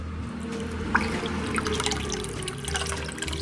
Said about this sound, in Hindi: फिर उस पानी को भी हम दबा कर निकाल देंगे।